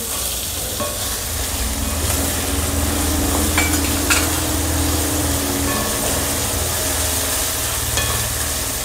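Chopped onions with green chili sizzle steadily in a hot pan for a potato bhaji, a continuous close frying hiss with occasional scraping stirs of a spoon.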